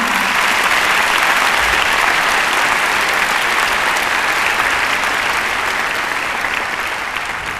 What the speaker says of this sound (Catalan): un aplaudiment a la Bim Bam